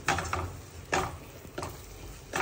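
Masala for a Goan fish curry is stirred in a frying pan, making three or four quick scraping sweeps over a low sizzle. The sound is close, with no voices.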